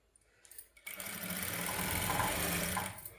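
Sewing machine stitching the fall onto a saree, a short start-up whir after faint handling noises, then a steady fast mechanical hum that runs for about two seconds before winding down, close and alone.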